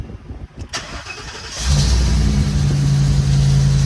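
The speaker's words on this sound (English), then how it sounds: "So when you come in, you'll start the vehicle." A car engine cranks briefly and catches, then settles into a loud, steady idle heard from inside the front cabin.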